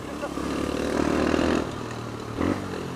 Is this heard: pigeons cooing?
no